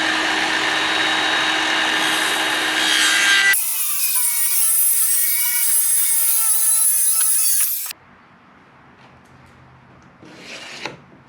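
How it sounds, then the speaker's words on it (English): A battery-powered circular saw cuts wood on a workbench, a loud steady whining rasp for several seconds that stops abruptly and leaves a quieter tail. "And I have a handy dandy battery powered circular saw."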